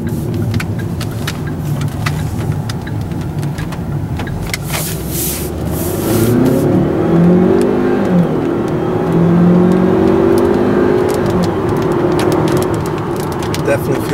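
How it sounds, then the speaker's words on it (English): A 2013 Kia Optima SXT turbo pulls away hard, engine note climbing in rising sweeps as it gains speed, heard from inside the car with road noise throughout. "Definitely feel that turbo kicking in."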